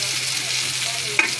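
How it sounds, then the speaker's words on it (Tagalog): Chicken and baguio beans sautéing in a pan, a steady close sizzle with a brief clink of stirring near the end. "Tapos, pinas ko talaga. Gisa-gisa lang."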